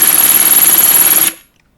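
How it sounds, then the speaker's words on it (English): A steady, loud buzzing grind of a drill bit working through a glass jar, continuous for over a second before cutting off abruptly into silence. "now I'm doing it with the bigger needed size drill bit"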